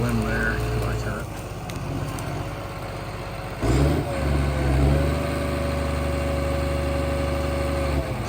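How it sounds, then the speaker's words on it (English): A logging machine's engine idles with a steady low drone, then throttles up louder around the middle and holds a higher, rougher roar with vibration before easing slightly near the end. "keeping the machine idled up, throttled up"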